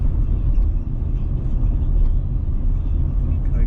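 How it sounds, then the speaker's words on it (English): Several cars passing on a suburban road along a driving test route, a steady low rumble of traffic heard from inside a moving car, continuous and fairly loud throughout. "a couple of vehicles all turning"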